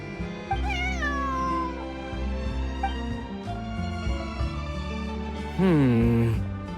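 A cat meows in the video game Genshin Impact, with several drawn-out falling meows, the loudest near the end, over a low game soundtrack.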